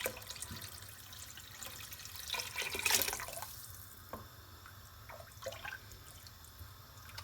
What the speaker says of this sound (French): Donc là je rajoute de nouveau de l'eau.